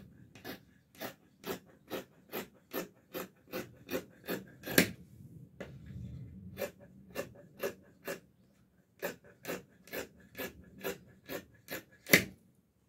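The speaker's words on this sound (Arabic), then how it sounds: "صافي البنات صافي نقطع معكم الكول" Fabric is cut for a shirt collar while sewing: a steady run of crisp, evenly spaced cutting strokes, close and quiet, with a couple of louder snips and a brief pause midway.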